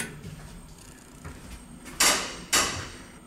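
Elevator doors at the Hotel Roanoke give two sharp, close mechanical thuds about half a second apart, each followed by a brief rattling decay, over faint room hum.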